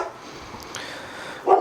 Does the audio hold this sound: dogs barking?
yes